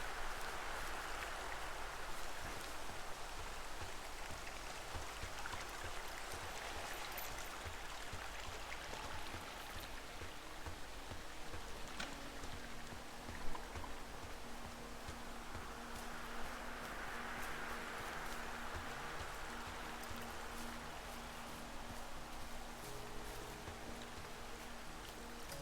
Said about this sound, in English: here's the stream